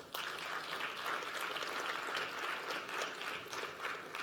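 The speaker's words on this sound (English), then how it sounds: "Let's keep the applause going also for Alvin Chai." Steady audience applause fills an awards ceremony hall, a dense even wash of many hands clapping at moderate distance and holding at a constant level throughout.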